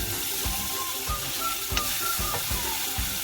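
Leftover chicken sizzles in olive oil in a pan, with a steady frying hiss and rhythmic low stirring thumps close by, and no talking.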